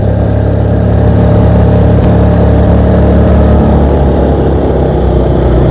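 A Yamaha PG-1 motorcycle engine runs steadily and loudly up close during a ride up a mountain, a continuous low drone with wind rushing over it.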